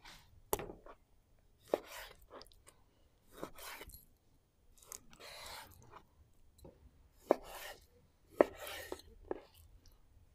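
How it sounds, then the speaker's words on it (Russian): A knife chops beef into small cubes for shashlik on a board in irregular sharp knocks, with soft slicing sounds between them, close and quiet. "И нарезаем ее кусками, подходящими для шашлыка."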